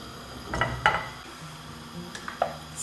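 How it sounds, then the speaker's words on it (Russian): A frying pan is set down on a kitchen stove with a few light metallic clanks and knocks, spaced out over a quiet background. "Поставили сковородку на плиту."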